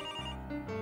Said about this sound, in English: It's actually our phone.